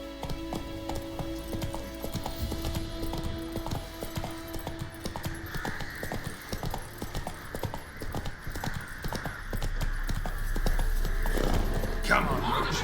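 Roach the horse trots along in The Witcher 3, steady rhythmic clip-clop of hooves under a continuous game soundscape, with a voice talking over it.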